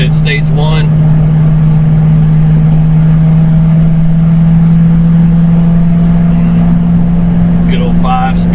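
A 2006 Ford Roush Mustang GT, stage 1 with a five-speed, cruises at about 65 mph and 1,800 RPM, its engine a steady, loud low drone with road noise throughout, a voice speaking briefly at the start and end.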